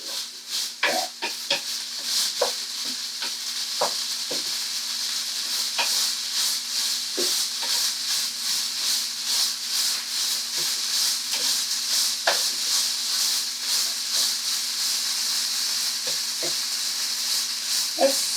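Vegan taco filling fries on high heat in a pan, a steady close sizzle and hiss running throughout, broken by frequent scraping and clacking as it is stirred constantly.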